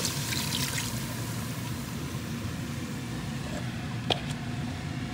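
Water is poured for freshwater fish soup, a steady trickling and splashing that runs continuously at moderate loudness, with a brief clink near the end.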